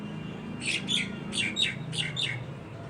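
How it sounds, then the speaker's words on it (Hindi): Birds chirping and squawking in quick repeated bursts a short distance away, over a low steady background hum with no talking. "चिड़िया पीछे का बैकग्राउंड म्यूजिक दे रही हूँ"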